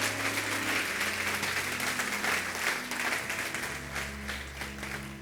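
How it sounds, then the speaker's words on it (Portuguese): A church congregation applauds in praise, a dense, sustained roll of clapping that fills the room at steady loudness from start to finish, with no speech over it. "Aplauda ao Senhor."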